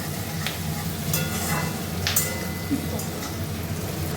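Onions and capsicum for chili chicken sizzle and fry over a high flame, a steady crackling hiss broken by a few sharp stirring scrapes.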